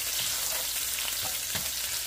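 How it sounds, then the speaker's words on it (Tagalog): Garlic, onion and ginger sizzle together in hot oil in a pan, a steady close frying hiss with a few soft stirring bumps throughout. "Pagkainit ng mantika, bawang, sibuyas at luya sabay-sabay ko ng iginisa."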